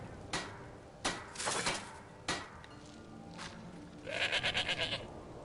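A goat bleats in a video game, a few short bleats and soft footstep-like taps at low volume, ending with a longer wavering bleat.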